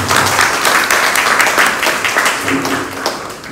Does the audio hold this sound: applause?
yes